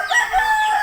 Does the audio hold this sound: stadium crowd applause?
no